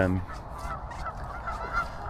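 Geese honk at a day-ticket fishing lake, with several overlapping, fairly distant honks and calls spread across a short stretch of open outdoor air.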